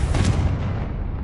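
A Confringo blasting spell in Hogwarts Legacy explodes with a loud booming burst and a rumbling tail that trails off over a second, heard alone.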